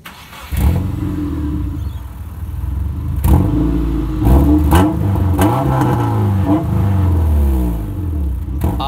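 A Subaru Forester engine revs hard through a loud, raspy modified exhaust, rising and falling in repeated bursts, close and continuous.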